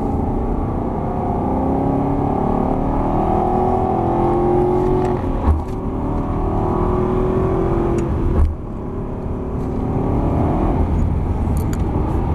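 An Aston Martin accelerates in a steady engine whine that climbs through the gears, with brief dips at shifts and a constant close, loud drone.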